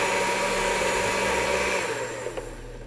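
A blender whirs steadily as it mixes blintz batter of butter, sugar, flour, vanilla and a pinch of salt, a loud continuous motor hum that eases slightly toward the end.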